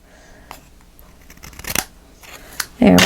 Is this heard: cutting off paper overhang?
yes